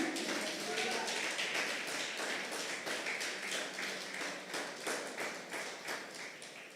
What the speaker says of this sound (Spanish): Démosle un aplauso a nuestro Padre.